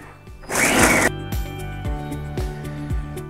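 A Krups i Prep & Cook food processor blade runs at maximum speed, a loud dense whirring burst lasting about half a second, followed by a series of rhythmic knocking thuds as the machine settles.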